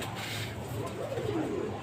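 Pigeons in a loft coo softly, a low rolling coo rising out of a steady background hum, close by and moderate in level.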